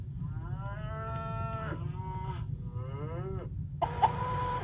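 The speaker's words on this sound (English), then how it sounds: "There's farm sounds with cows." A farm-sounds alarm on an Alexa smart speaker plays cows mooing in several drawn-out, rising and falling calls one after another, with a brighter farmyard call at the end over a steady low hum.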